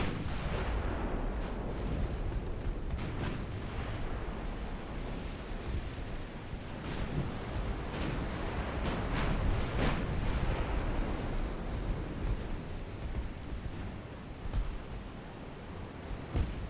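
Naval battle in Ultimate Admiral Dreadnoughts, with ship guns firing and torpedoes detonating: a dense, continuous rumble of booming blasts and roaring impacts that swells and fades steadily, with no voices.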